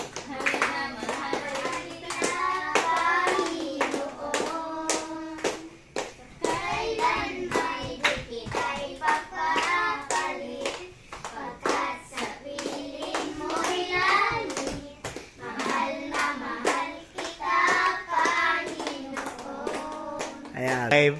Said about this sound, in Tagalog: May palakpak dapat.